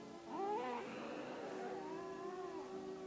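A cat meows in a drawn-out, wavering way indoors in a home kitchen, with several rising and falling cries over steady background noise.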